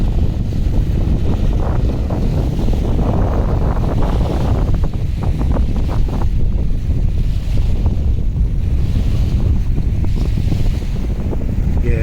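Rough sea water at Southend-on-Sea beach, with boats out on the water, churning and crashing as a loud, continuous roar heavily buffeted by wind against the microphone, with no voices.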